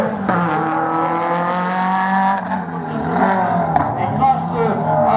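Race car at a slalom event in Agon-Coutainville, its engine droning loud and steady with pitch shifts as it accelerates through the course, under a commentator's voice.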